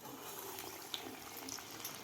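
Medu vada batter patties frying in very hot oil, a steady soft bubbling sizzle with faint crackles, close and fairly quiet, no voices.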